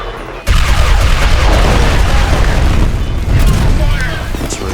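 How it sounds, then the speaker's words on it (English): Grenade explosion in F.E.A.R., a sudden loud boom that erupts into a sustained roaring blast with crackling debris and rumble, close and dominating for several seconds. "That's a really bad grenade."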